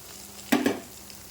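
A short burst of sizzling as beaten eggs hit a hot pan, quickly settling to a quiet background hiss.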